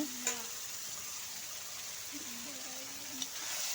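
Chicken pieces sizzle steadily in a hot pan with a constant hiss, a couple of brief clatters near the start and end, and a faint low voice murmuring underneath.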